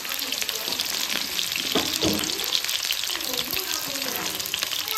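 Steady close frying hiss of potatoes in bubbling oil, with occasional clinks of a utensil, continuous throughout.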